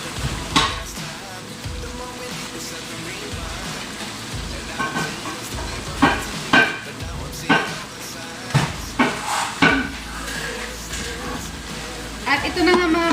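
Potatoes and eggplant fry in a pan with a steady, loud sizzle, broken by scraping stirs and clatter. A person talks at times over the cooking.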